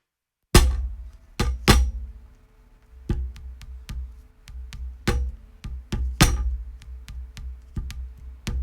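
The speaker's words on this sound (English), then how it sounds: "I don't know exactly what I'm hitting there. Part of a desk or something, or like a stool" Part of a desk or stool struck by hand, dry and unprocessed: a loose pattern of solid close knocks, some heavier thuds and lighter taps, with short ringing decays between hits.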